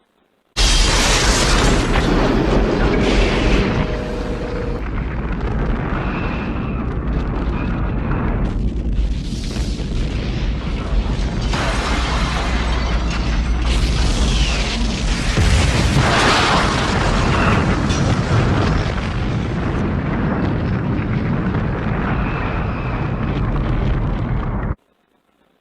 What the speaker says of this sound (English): Let's show up the Enterprise blowing up here.